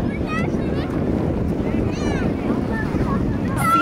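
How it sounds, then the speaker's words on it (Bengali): Strong outdoor wind in Sylhet, Bangladesh, gusts against the microphone in a steady, close rumbling roar for the whole stretch, with faint voices talking underneath. "অনেক বাতাস।"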